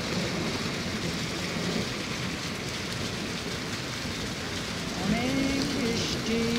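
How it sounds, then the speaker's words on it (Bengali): Heavy rain pours steadily in Saudi Arabia, a dense, continuous roar of drops striking hard paved ground nearby, with a brief voice rising faintly near the end. "অনেক বৃষ্টি, আমি ভিজে যেতেছি।"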